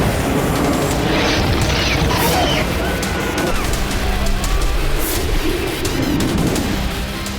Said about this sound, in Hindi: दो 2000 किलो के बम से जो विस्फोट हो रहे हैं